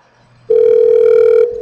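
A steady telephone dial tone on a recorded computer call starts abruptly after a short quiet lead-in and holds loud and clear for about a second before dropping away.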